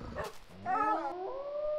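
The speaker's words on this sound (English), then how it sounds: "Oh my god. It's a wolf." A wolf in the Minecraft video game gives a short rising howl with a yip-like start, close and clear, with no voices.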